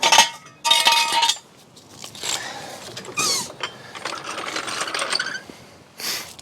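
A ratchet tightening the wheel lug nuts on a 2016 Hyundai Tucson during a brake pad job, giving bursts of close metallic clicking and rasping separated by short pauses.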